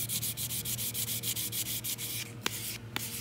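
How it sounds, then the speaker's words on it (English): Abrasive sanding of an applied metal inlay, rapid rhythmic back-and-forth rubbing strokes close up, steady and scratchy, with a couple of sharp clicks near the end. "Keep sanding."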